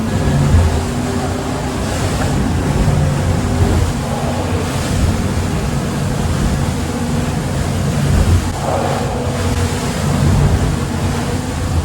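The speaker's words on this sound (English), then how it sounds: "That's the ocean." Ocean surf off South Miami Beach, heard from a boat passing between South Point and Fisher Island: a steady, loud wash of water and wind noise with low rumble throughout, no talking.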